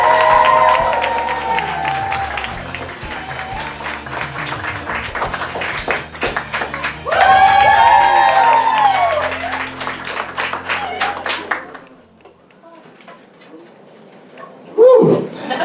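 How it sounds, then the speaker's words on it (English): Audience applause for the evening's accompanist at a New York cosplay cabaret show: sustained, dense clapping from a crowd with some cheering, fading out toward the end before a brief voice. "Please give a big round of applause to our accompanist for the evening"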